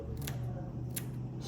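Scissors trim the face of a Murdich Minnow fly at a fly-tying bench, giving two crisp, close snips about half a second apart over a low steady background hum.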